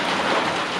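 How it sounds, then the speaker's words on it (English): Steady rain hisses down in a brief, even wash of noise during a backpacking trip, heard from a trail shelter in the woods. "I think the rain's supposed to stop by 7."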